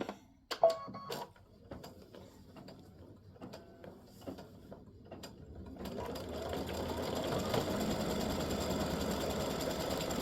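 An embroidery machine starts with scattered ticks and clicks, then settles into a steady, dense mechanical whirr of continuous stitching that holds to the end.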